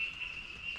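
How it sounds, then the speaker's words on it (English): Frogs call at dusk in a coffee estate in the Shevaroy Hills, a steady high-pitched trilling chorus at moderate distance with no talking. "You can hear a lot of frogs."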